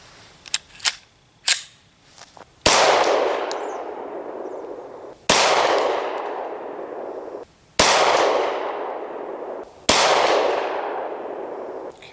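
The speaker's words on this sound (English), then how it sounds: "I'm going to shoot and try and tighten up my groups." A Glock pistol fitted with a new trigger connector fires at steel targets. A few light clicks come first, then four loud, sharp reports, each followed by a long, ringing decay.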